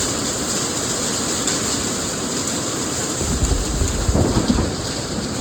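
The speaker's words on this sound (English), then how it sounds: "raining out of nowhere, so I'm pretty soaked right now." Heavy rain and a sudden thunderstorm outside an aircraft hangar, with a loud continuous hiss of rain drumming on surfaces and a deep rumble of thunder rolling in near the end, no voices.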